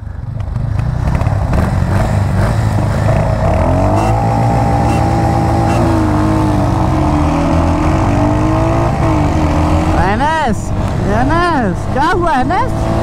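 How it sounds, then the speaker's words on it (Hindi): A Royal Enfield Hunter 350 motorcycle in a drag race, its engine droning loud and steady with rising and falling revs, then sharp repeated gear-change sweeps near the end as it accelerates, with other vehicle engine noise mixed in. "तो अब हम चलाते हैं हंटर 350"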